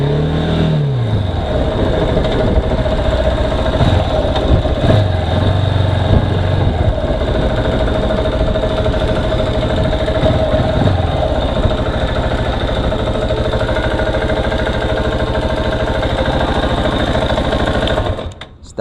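Steady engine hum of a KTM 690 Enduro R motorcycle with a low, even idle throughout, a few brief pitch sweeps early on, and sound cutting off abruptly at the end.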